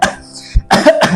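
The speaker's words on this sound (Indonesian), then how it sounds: "Gak tau nih, tiba-tiba batuk." A person coughs suddenly with a wet, phlegmy, productive cough in a short film: a low thud, then two harsh, close bursts with a rattling quality, with no speech.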